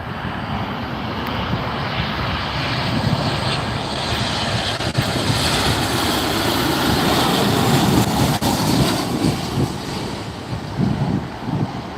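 A Sun Country jet airliner passes close at LAX, its engine roar loud and sustained across the whole stretch, with wind buffeting the microphone.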